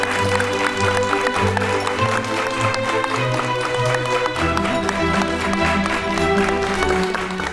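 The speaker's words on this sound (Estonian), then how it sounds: "Ja palun eriti suur aplaus uutele noortele meistritele Sebastian ja Kasper." Applause for the young champions at the Noor Meister 2025 cyber defence competition award ceremony: steady, loud clapping from a crowd that fills the whole stretch, mixed with music playing throughout.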